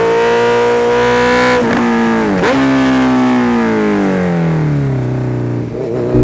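A Honda CB 650F four-cylinder motorcycle screams at high revs under hard acceleration, loud and close, its pitch rising through shifts before falling away as the throttle eases.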